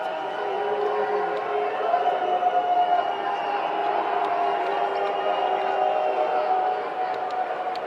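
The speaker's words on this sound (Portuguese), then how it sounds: "Dilma foi até o Chile nesta segunda-feira e foi vaiado" A large crowd in Chile boos Dilma, a loud, steady roar of many voices that holds for the whole stretch without a break.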